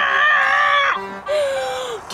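A child screams in two long, loud, high-pitched wails with a brief break between them, close by and with no other talk.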